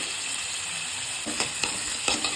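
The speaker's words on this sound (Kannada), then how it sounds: "ಕೆಚ್ಚಿರೋ ಈರುಳ್ಳಿನ ಹಾಕಿ ಉರಿಬೇಕು ಸ್ವಲ್ಪ ಈರುಳ್ಳಿ ಸ್ವಲ್ಪ ಅರಿಶಿನ ಹಾಕಿ" Chopped onion with turmeric fries in oil in a pan, giving a steady close sizzle, with a few soft stirring scrapes and clicks toward the end and no talking.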